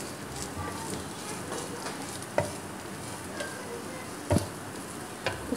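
A spoon stirs ground black pepper into a chicken cheese bun mixture in a bowl, a soft continuous scraping with a few sharp taps against the bowl, fairly faint over background noise.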